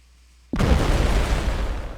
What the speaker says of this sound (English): Go here, fire the torpedo.